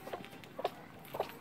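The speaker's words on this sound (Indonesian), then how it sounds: "Ada ayam lagi ngangrem, bunyi dia." A brooding hen on a small farm clucks in three short, soft bursts spaced about half a second apart, close by and alone against quiet background noise.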